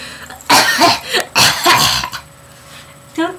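Several harsh, close coughs in quick bursts, followed by a pause and one more short cough.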